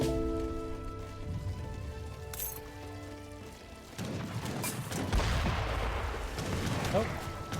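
Musket and rifle volleys crackle in a real-time strategy battle from Age of Empires 3, where upgraded Royal Huntsman units fire on enemies. Layered bursts of gunfire rattle over background game music and ambience.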